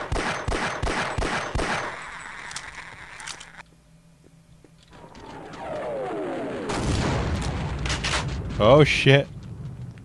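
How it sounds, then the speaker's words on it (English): Bombardment and gunfire in Half-Life: Opposing Force, a quick burst of sharp gunshots, then rumbling explosions and debris building to a loud crash, with a man swearing near the end. "They're bombarding the place."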